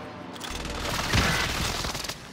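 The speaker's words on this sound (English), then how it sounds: "Airstrike on me," Airstrike explosions in the video game Call of Duty: Modern Warfare Warzone: a dense rumbling barrage of blasts builds to a loud peak and then fades slightly, heard alone and close.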